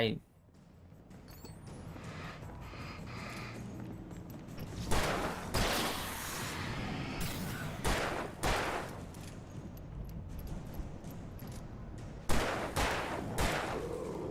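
Gunfire from the video game Alan Wake Remastered comes as several loud separate shots with echoing tails, spread across the stretch, with someone talking over parts of it.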